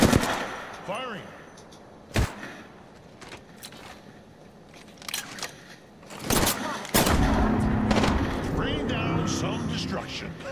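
Gunfire in the Apex Legends video game, with bursts of rapid shots and sharp blasts mixed with in-game voices and explosions, loud and close with quieter gaps between volleys.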